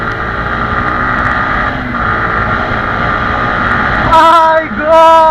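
A Yamaha R15 V3 sport motorcycle engine drones steadily while riding, then rises in pitch and revs harder near the end with a quick shift, loud and close over wind noise.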